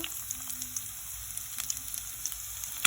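Chopped ginger and garlic drop into hot oil left from frying chicken, giving a faint, sparse sizzle with scattered crackles and pops, louder at the very end.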